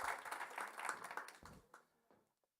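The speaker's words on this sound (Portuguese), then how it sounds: "vamos aplaudir Nayara Brito" A small audience applauds to welcome a guest joining a career-networking panel; the clapping is fairly faint and thins out, fading to silence over the last second.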